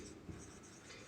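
Marker or chalk writing on a classroom board during a chemistry lesson, a brief soft scratching stroke, fairly quiet and close, with no talk over it.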